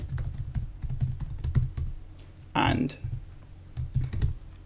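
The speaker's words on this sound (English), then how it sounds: "you're just typing text. I could just spam a load of keys" Rapid typing on a computer keyboard, a dense clatter of key presses with a brief pause, while a voice speaks a word and a short noise burst cuts in.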